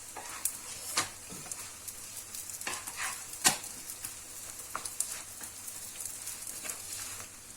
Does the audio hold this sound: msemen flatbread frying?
yes